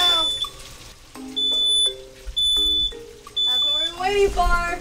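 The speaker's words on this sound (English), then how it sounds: "The smoke detector is our dinner bell." A smoke detector aboard a boat sounds a series of four loud, sharp electronic beeps at regular intervals, with voices and clattering background noise between them.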